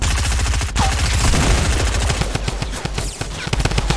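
A drum gun in Fortnite fires long rapid bursts, loud and close, with a dense stuttering rattle of shots that briefly breaks off before resuming in quicker, choppier volleys.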